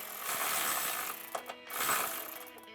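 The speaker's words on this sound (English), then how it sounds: "Now I'm going to thread this in until it almost bottoms out." Rapid ratcheting of a wrench threading a 13 mm bolt with lock and flat washers into a Jeep Wrangler JK body, steady close clicking with a brief pause of sharp clicks midway.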